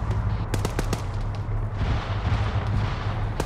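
ArmA 3 gunfire forms a continuous rumble of distant rifle and machine-gun fire, with sharper close cracks and booming reports layered over a low drone and no talking.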